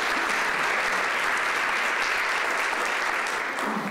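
Audience applause fills the hall to welcome a speaker at a talk on treating moral injuries of veterans; steady, dense clapping holds at an even loudness from start to finish with no voices over it.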